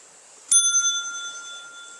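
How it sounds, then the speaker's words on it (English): A bell is struck once, a sharp metallic hit followed by a clear resonance that rings on and slowly fades, alone in a quiet room. "There's the ringing of the bell, the hitting of it, and then there's the resonance"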